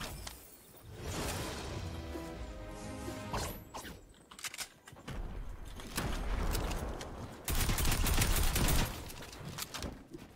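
An AK rifle fires in a video game in rapid, loud bursts of crackling shots, mixed with clattering mechanical noises and whooshes through a steady, busy game soundscape.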